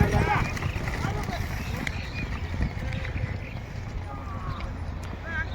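Hooves clip-clop in a quick running rhythm during a horse-drawn tonga cart race at a village fair, heard close with rumbling and noise, as people talk over them throughout.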